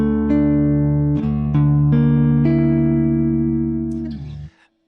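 Guitar fitted with brand new D'Addario strings, a few bright plucked notes and chords ringing with long, clear sustain, loud and close, then cut off abruptly near the end.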